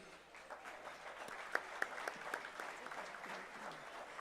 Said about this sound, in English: a big round of applause as we welcome Amanda, Alessandra, and Alexia DiNapoli